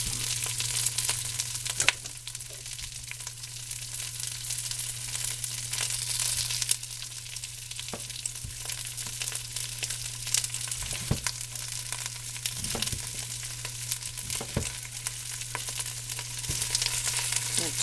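Canned corned beef and cabbage fry in a pan of oil or bacon grease, giving a steady close sizzle with occasional scrapes and stirring noises throughout, no talking.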